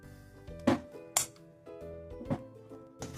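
A metal kadhai is swapped for a larger one while milk cooks, giving a few sharp clinks and knocks of cookware, quiet and close, with no talk.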